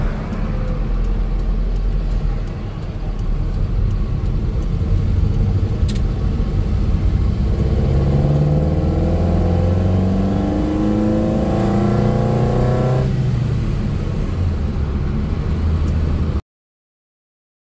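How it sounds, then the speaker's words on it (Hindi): A car engine runs steadily while the car is reversed and driven out, a loud close rumble that climbs in pitch as it revs and pulls away, then stops abruptly. "चले मैं गाड़ी यहाँ से निकाल लूँ, रिवर्स देखना थोड़ा सा लिए मेरे लिए दिक्कत पेश आती है।"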